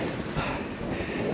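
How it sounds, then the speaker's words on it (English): Wind buffeting a microphone during an outdoor run, a steady broadband rush with slight gusts throughout, no voices. "Oh, that wind makes it interesting."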